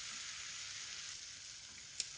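Carom and nigella seeds sizzle in hot olive oil with a steady, close frying hiss, and a small click comes near the end.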